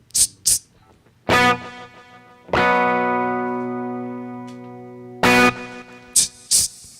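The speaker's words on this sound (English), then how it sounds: "There's the echo, reverb." Electric guitar played through an RC600 looper pedal with echo and reverb, sustained chords ringing out and slowly decaying between short bursts of noisy strums, fairly loud and close.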